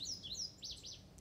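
Indigo Bunting song: a short run of high, thin chirping notes, then two slurred rising-and-falling phrases, clear and fairly close against a faint low hum.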